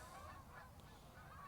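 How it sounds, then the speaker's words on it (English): Geese honking outdoors in Durango, a faint, distant series of nasal calls drifting over a steady wash of open-air background noise. "Hear those geese? Those are some Durango geese."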